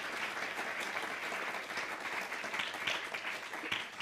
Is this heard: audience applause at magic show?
yes